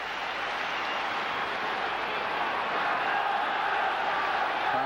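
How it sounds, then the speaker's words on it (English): A large football stadium crowd of over fifty thousand at a 1996 Champions League night match between Manchester United and Fenerbahçe roars steadily in response to a refereeing call, a dense, continuous wall of cheering and voices. "So the crowd respond to that."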